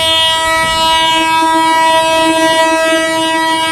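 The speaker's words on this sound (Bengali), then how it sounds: "প্রথম যাত্রীবাহী ট্রেন ঢুকছে" A passenger train sounds a long, loud, sustained horn as it arrives at a village station, a steady tonal blast over low rumbling, with no speech.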